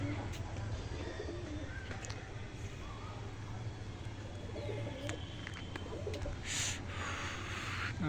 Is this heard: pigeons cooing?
yes